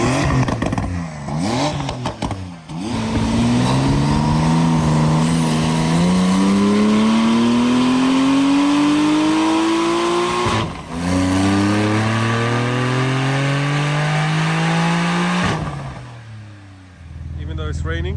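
A 1,100 bhp Porsche 992 Turbo with sports cats pulls hard through the gears on a wet street. The engine note climbs in long loud sweeps, and a short break marks each gear change.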